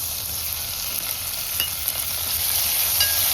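Onion and freshly added tomato sizzle steadily in a hot pan for a Marathi-style dal tadka, a continuous close frying hiss with a few faint stirring scrapes and no voices.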